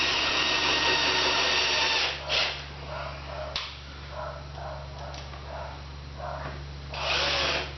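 A power drill drives screws into the wooden frame of a homemade cub mobile, with a loud steady whir opening the clip, quieter bursts and short knocks in the middle, then a second loud whirring run near the end.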